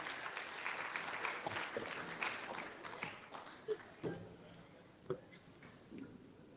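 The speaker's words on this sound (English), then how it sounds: "Ladies and gentlemen, a big round of applause for Uncle Jackson and Joey." Audience applause at a diabetes awareness and fundraising event in Adelaide, a dense patter of clapping that thins out after a few seconds into scattered claps, with some crowd murmur underneath.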